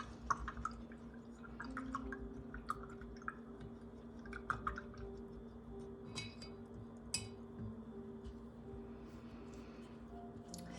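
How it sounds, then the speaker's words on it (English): A paintbrush swishes and clinks in a water cup, a series of faint taps and small splashy dabs over a constant low hum, fairly quiet and close. "So now I'm gonna wash my brush out."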